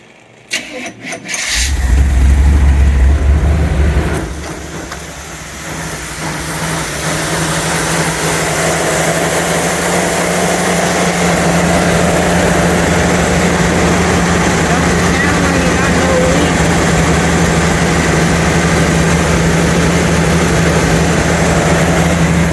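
A 1977 Chevy van engine cranks and catches with a loud burst, then settles into a steady, rumbling idle that continues without a break.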